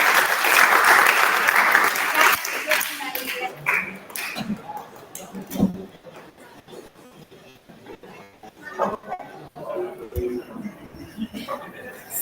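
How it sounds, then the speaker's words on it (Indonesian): Applause in a classroom during a teaching practice session, starting loud for the first two seconds or so, then fading into scattered claps, knocks and room noise, with a dog whimpering faintly and people talking. "Tepuk tangan dulu."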